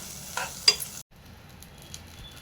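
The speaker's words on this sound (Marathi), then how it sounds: "याला चांगलं तेल सुटेपर्यंत परतून देऊ आपण." Masala sautéed in oil in a pan for a wambi (fish) curry gives a faint, soft sizzle with a couple of quick stirring scrapes early on, then a brief drop-out before the quiet frying resumes.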